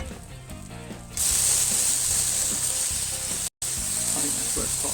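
A smash burger patty with mushrooms mixed in sizzles in a pan after the flip. A loud, steady frying hiss starts abruptly and carries on with a brief dropout, close and strong.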